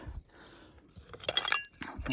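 Small brown glass pharmacy bottles, broken ones among them, clinking and scraping against each other while being handled outdoors, a few close bright clinks with light rustling.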